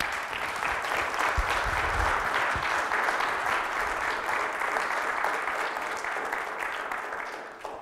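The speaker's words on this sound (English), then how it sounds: "Like that, I prompt you for that clap." Sustained audience applause after a talk at a Linux conference, a dense, even wash of many hands clapping that holds steady for several seconds and then begins to taper off at the end.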